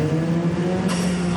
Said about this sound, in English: you can't beat the noise of a turbo wastegate